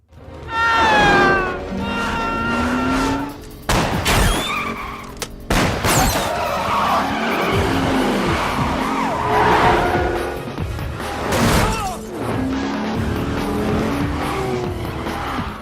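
A taxi converted to racing trim chasing robbers, engines roaring and revving with repeated tire squeals and skids, plus sharp impact bangs, loud and dense over a continuous scene with no talking.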